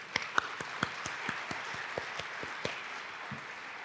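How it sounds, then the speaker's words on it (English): A community reading-event audience in Lake Oswego gives a round of applause, with scattered distinct claps up close over a soft, steady spread of clapping that thins out toward the end. "Please join me in giving them another huge round of applause."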